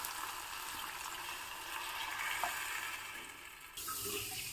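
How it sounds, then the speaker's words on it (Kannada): Water pours steadily into a cooking pan over tomatoes softened for a breakfast dish, a continuous close splashing rush that shifts briefly near the end. "ಇವಾಗ ನೀರನ್ನ ಹಾಕ್ಕೊಳ್ಳೋಣ."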